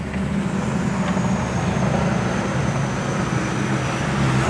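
Steady low rumble of light street traffic in Thailand, heard from inside a car, a continuous broadband hum with engine drone and no sharp horns or distinct events.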